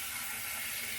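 Cold tap water runs steadily into a sink during a post-shave rinse, a continuous broadband splashing hiss with no break and no talking.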